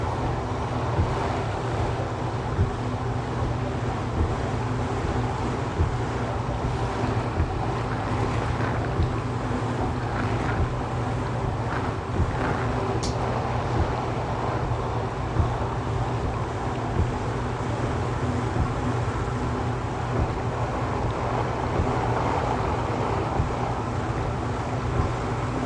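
A vapor blasting cabinet blasts a plastic headlight bucket with a constant loud rushing hiss and roar, unbroken throughout with no voices.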